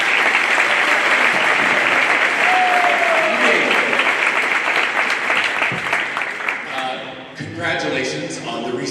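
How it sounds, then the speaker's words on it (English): Audience at a high school marching band information night applauding a guest speaker, loud sustained clapping from a full room that fades out near the end as a voice begins talking. "So please give him a nice round of applause."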